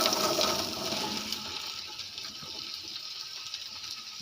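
Grated carrots for gajar halwa tipped into melted fat in a hot pan, giving a loud, bright sizzling hiss that is strongest at first and then settles to a steady lower crackle.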